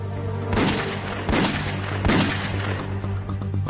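Revolver gunshot sound effects: four heavy, booming shots spaced about three-quarters of a second apart, loud and close over a low steady hum.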